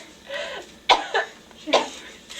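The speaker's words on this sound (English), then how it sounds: "Now try to keep coughing" A person coughs several times in short, sharp bursts, close by, with brief raspy breaths in between.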